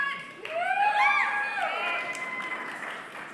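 Graduation convocation crowd at a university ceremony cheering and applauding, with whoops and shouted voices rising over a steady wash of clapping that carries on for several seconds.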